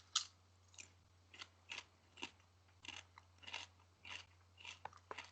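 Crunchy food is chewed in close bites, about a dozen crisp crackling bursts spaced through the stretch over a steady low hum, with no talking.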